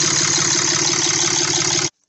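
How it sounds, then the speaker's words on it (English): An idling Cummins 6.7L diesel in a Ram 2500 sounds loud and close, with a dense, steady clatter and a fast rhythmic ticking from the valvetrain up top. It runs evenly for about two seconds, then cuts off abruptly. "there's a ticking noise that you can hear. I'm hoping that's just from the valve."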